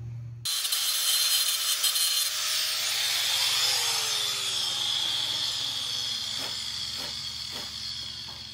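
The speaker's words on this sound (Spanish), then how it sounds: "Ahora voy a pulir esto, voy a sacar esto." Angle grinder polishing a freshly cut metal edge on a Ford F150 during a radiator and intercooler upgrade, a steady loud high whine running throughout with brief tonal shifts as the disc bites and rhythmic pulses near the end.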